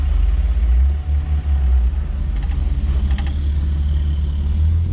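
Stripped-down BMW Z-Kart project car driving, its engine giving a loud, continuous low rumble close by, with a few faint higher clicks partway through.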